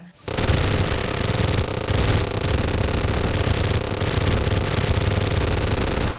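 Continuous, very rapid gunfire from a spinning chain gun in the video game Terraria, a dense unbroken stream of shots filling the whole stretch at loud, close range.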